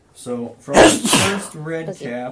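A sharp sneeze bursts out midway through a tabletop role-playing game session, loud and close, with people talking just before and after it.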